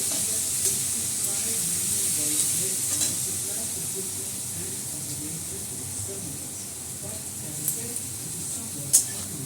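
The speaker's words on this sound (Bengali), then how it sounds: "এই শুকনো লঙ্কা ফোড়ন দিলাম, একটু কালো জিরা দিয়ে দিলাম।" Dried red chillies and black cumin sizzle in hot oil, a soft continuous hiss and crackle close by with a few brief clinks.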